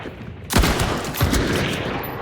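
Gunfire in a video game: a sharp shot lands, then a second one shortly after, both close and loud over constant background noise.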